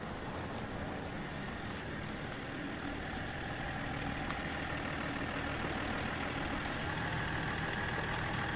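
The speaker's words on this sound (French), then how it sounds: "Coupez le moteur s'il vous plaît." A 4x4 car engine idling during a roadside police check in Estonia, a faint, steady low rumble that holds constant the whole time with no voices.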